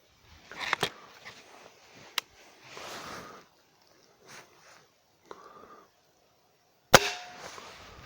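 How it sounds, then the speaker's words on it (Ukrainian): Sharp, isolated shots from a Hatsan Striker Edge air rifle ring out one at a time with pauses between, the last one loudest, with faint rustling and movement in the quiet gaps. "відстріляємо серію із трьох пострілів"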